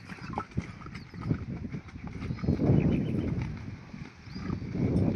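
Horse hooves clip-clop in a steady, uneven rhythm of close, fairly loud knocks throughout, with no talking.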